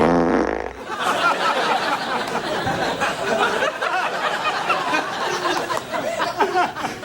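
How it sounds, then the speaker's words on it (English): Cartoon cat farting sound effect on a late-night talk show, a short blast right at the start followed by audience chuckling, laughter and chatter. "You had the cat fart because it's Bastille Day."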